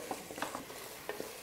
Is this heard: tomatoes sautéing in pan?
yes